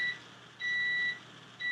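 Electronic beeps sound as steady two-tone tones, one short, a longer one, then another starting, moderately loud with quiet hum between them.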